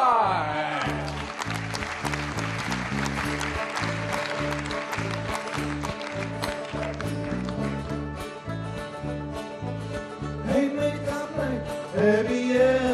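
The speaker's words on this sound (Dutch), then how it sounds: "Mag ik een daverend applaus voor?" A theater audience gives a long round of thunderous applause for an introduced guest, the dense clapping sustained for the whole stretch and mixed with loud band music that keeps a steady, driving beat underneath.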